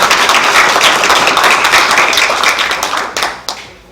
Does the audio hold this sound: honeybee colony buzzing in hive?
no